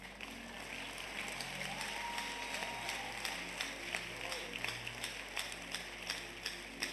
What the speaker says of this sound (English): Clap well.